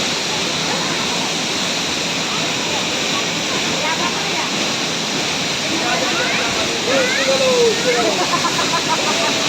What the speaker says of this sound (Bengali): ফলসটা মানে যে জলটা আসছে ওটা পুরো ডিরেক্টলি কাঞ্চনজঙ্ঘা থেকে আসছে প্রচণ্ড ঠান্ডা জল